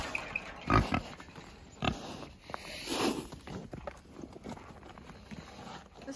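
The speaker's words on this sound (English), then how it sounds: "Just gonna feed our other little boar." Pig sounds at feeding time: a young boar, half Hereford and half a Duroc, Landrace and Berkshire mix. Short grunts and snuffles sound close by, mixed with footsteps and clatter, and no one talks.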